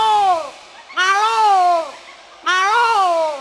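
A person's voice imitates a cat, giving three loud, close meows with falling pitch, each about half a second to a second long, separated by short pauses.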